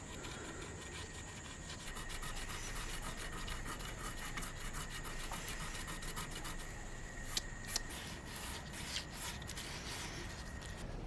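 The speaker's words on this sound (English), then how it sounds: "I've just stuck some 400 grit sandpaper to the end of this screwdriver" Close, continuous rasping of 400-grit sandpaper on a screwdriver tip rubbing back and forth on metal guitar frets, a steady scratchy rhythm with a few sharper strokes near the end.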